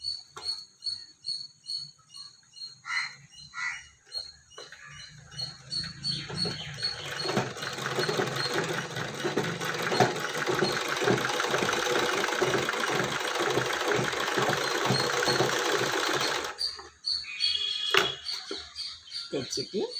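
A sewing machine runs steadily for about ten seconds while stitching a fold on a blouse, its motor whirring at close range, with quieter handling and brief pauses before and after the run.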